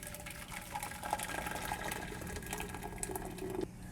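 Corn milk pours into a large stock pot on a stove at medium-high heat, a quiet, steady liquid fill with small gurgles and a brief bubbling near the end, with no talking.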